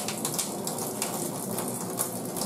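Water streams steadily over a dog's coat during a rinse, a continuous close, hissing splash with small spatters and no voices.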